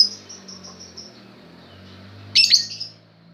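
A lovebird sings a thin, fading series of chirps, with a brief sharper, brighter burst of squeaky calls near the end, close by.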